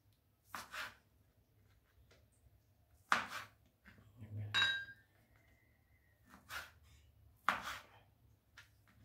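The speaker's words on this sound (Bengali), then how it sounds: "এইভাবে আমি টুকরো টুকরো করে নেব।" A knife cuts chicken into small pieces on a board for a Chinese-style chicken and broccoli stir-fry, giving several separate, crisp chops spaced a second or two apart with quiet pauses between them.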